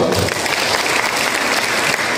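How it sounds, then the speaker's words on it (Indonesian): Dense applause from an audience at a youth ambassador inauguration ceremony, loud and continuous clapping throughout with no pauses. "Tepuk tangan untuk semua."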